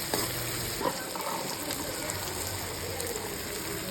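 Steady sizzling of corn added to sautéing green chillies and tomatoes in a pan, a dense even crackle with a few small pops from stirring, close up and without talk.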